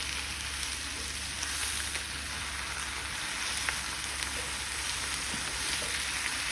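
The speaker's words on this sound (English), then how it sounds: "We're now gonna add the cabbage to the onions. And fry some more." Cabbage and onions fry in a pan, a steady close sizzle and crackle with faint scattered pops, continuing evenly without talk.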